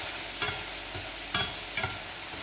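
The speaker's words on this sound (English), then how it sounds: "Just gonna stir them around." Food sizzling steadily in a hot pan while a utensil stirs it, a few distinct scraping strokes rising over the constant fry hiss, close and without talk.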